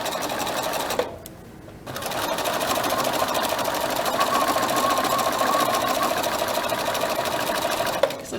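A sewing machine stitches through tightly held fabric, its steady motor whir running almost continuously apart from a brief pause near the start, close and loud with no talking.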